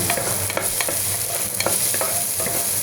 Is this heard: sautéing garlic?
yes